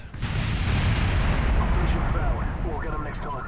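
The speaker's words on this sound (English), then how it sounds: "So wobbly, in fact, that it actually destroyed the rocket." A rocket in Kerbal Space Program tearing apart and exploding, a dense, loud rumbling roar of blasts and crackling debris that sustains for several seconds and slowly thins out.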